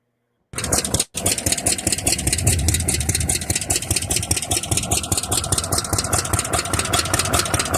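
A 1966 Arctic Cat vintage snowmobile with a rear-mounted engine starts and runs with a loud, steady, buzzing two-stroke rattle close by, with a brief dropout right after it fires up.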